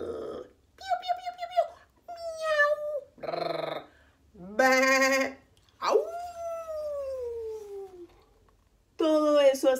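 A grandfather in costume imitates a string of animal sounds, barking, neighing, roaring, meowing and howling, in close, loud vocal bursts with short gaps between them.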